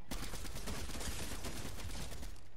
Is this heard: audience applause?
no